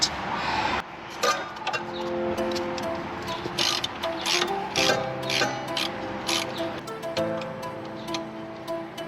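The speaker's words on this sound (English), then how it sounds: "removing the 10mm and together with the 12mm socket" A ratchet with a 12mm socket clicks in quick, repeated runs while removing rear strut bolts, fairly close and alone, with a few metallic knocks mixed in.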